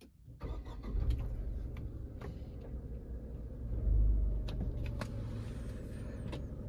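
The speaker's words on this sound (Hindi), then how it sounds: "काफी कम इंजन नॉइस अंदर आ रही है।" Tata Nexon 2023 with push-button start, heard from inside the cabin with the AC off: a low, steady engine idle hum that stays even throughout, with a brief swell in the middle.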